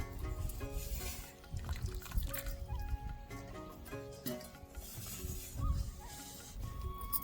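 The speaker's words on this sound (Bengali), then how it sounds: "এবার আমি জলটা ছাড়িয়ে নেব।" Water poured off chhana curds made with vinegar from whole and powdered milk, a close continuous splashing and trickling flow with small drips.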